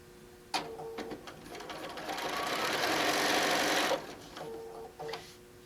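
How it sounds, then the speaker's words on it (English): Sewing machine stitching around the outside edge of a fabric placemat, a few short mechanical bursts followed by a steady, fast whirring run of about two seconds, then more brief stops and starts. "Now, I'm going to sew around the outside edge."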